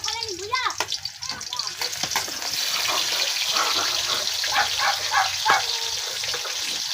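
Tomatoes dropped into hot oil with onion in a pan, a bright continuous sizzle and crackle that swells and stays loud, with some stirring clatter early on.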